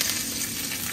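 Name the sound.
vegetables frying in oil in a pan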